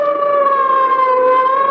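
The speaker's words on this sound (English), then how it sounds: "the wild shriek of a siren as an ambulance catapults through the city's darkened streets" An ambulance siren shrieks as a radio-drama sound effect, a loud, steady, piercing wail that sounds alone for under two seconds.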